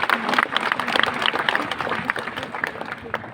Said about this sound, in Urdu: ڈاکٹر شاہد کے لیے تالیاں ہو جائیں.